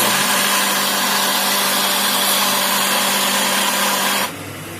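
Mixer grinder blending ginger, garlic and green chillies with a little water into a paste, a loud steady whirring drone that runs nearly five seconds before cutting out abruptly.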